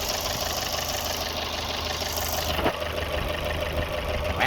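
A Fiat 500 1.4 Pop engine runs at idle with the hood open, recorded up close. It gives a steady, even mechanical hum with light ticking and no voices.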